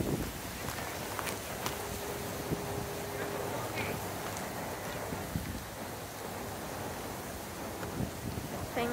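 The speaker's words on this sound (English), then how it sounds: "super windy here." Strong wind blows outdoors at a roadside dinosaur attraction in Cabazon near Palm Springs, a constant broadband rush buffeting the microphone with scattered knocks and faint voices.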